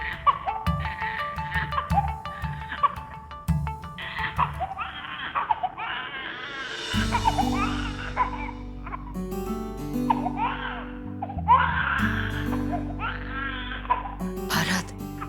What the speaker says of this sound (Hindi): बच्चे के रोने की आवाज कहां से आ रही है?